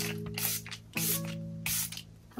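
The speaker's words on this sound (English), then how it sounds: "I'm going to spray that lightly on my face." Revolution Super Fix Super Hold misting setting spray is pumped onto a face in three short hissing bursts, close and clear over a low background hum.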